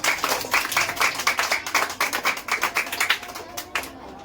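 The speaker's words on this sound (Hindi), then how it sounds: "क्या बात है, ताली बजा बेटा।" Students in a class 7 science coaching class clap their hands together in a quick, fairly rhythmic burst of sharp claps, close and lively, fading slightly toward the end.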